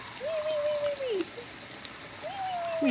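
A garden hose sprays water in a steady, faint hiss while a young child plays, and a voice rings out in two sustained vocal sweeps above it.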